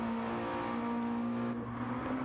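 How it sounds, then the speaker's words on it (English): A GT race car engine drones at steady high revs in a racing video game on the Trial Mountain or Tsukuba circuit, a loud buzzing tone that dips briefly then holds. "These cars do sound pretty good."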